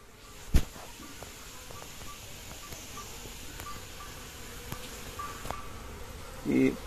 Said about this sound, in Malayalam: ഈ പുതിയ ക്യൂനായിട്ടുള്ള തേനീച്ചക്കൂട് നമ്മൾ നോക്കുമ്പം അധികം സ്മോക്ക് ചെയ്യാൻ പാടില്ല